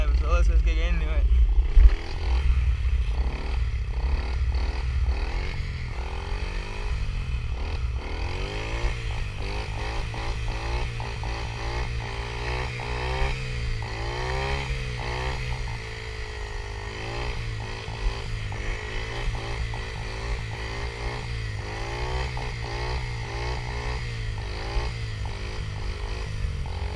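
A Yamaha TT-R50 dirt bike engine buzzing close by during wheelies with foot dragging, its pitch rising and falling with throttle blips throughout, under someone talking.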